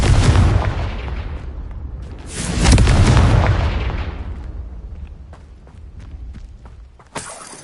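A Confringo spell blasts in Hogwarts Legacy, with two loud booming explosions, one right at the start and another near the three-second mark. Each rumbles and decays, then sharp crackles and pops follow and a final snap lands near the end.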